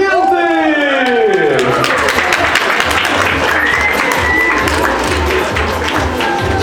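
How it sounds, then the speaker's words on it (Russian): A cinema audience at the Luxor theatre breaks into loud sustained applause for director Dmitry Astrakhan, dense clapping with scattered cheers and voices lifting over it. "Ваши аплодисменты!"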